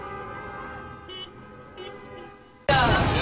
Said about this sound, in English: Come on, honk for peace!